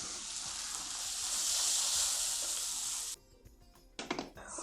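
Jackfruit sautés in a hot pan with a loud, steady hiss of sizzling that cuts off suddenly partway through. A few sharp clanks and stirring knocks follow, with no speech.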